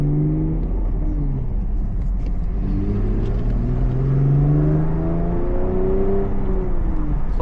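Manual-transmission car accelerating up to speed, a steady engine rumble with rising, gliding tones as it pulls through the gears, heard from inside the car with no talk.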